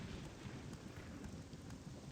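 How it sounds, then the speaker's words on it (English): Steady rain pours down in the game world of Morrowind, a dense, even hiss of drops with soft low rumbling underneath, constant and fairly quiet throughout. "And now we're getting rained on."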